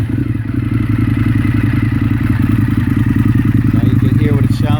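A custom Indian FTR1200 hot rod motorcycle with baffles removed from its exhaust idles loudly and close by with a deep, rapid, lumpy throb, ending in a brief throttle blip.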